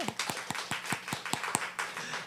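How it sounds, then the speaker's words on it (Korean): A small church congregation claps to welcome visitors at a Sunday service, giving about a dozen close, evenly spaced hand claps that form a brief, slightly loose rhythm. "잠깐 박수로 환영해 주시면 좋겠습니다."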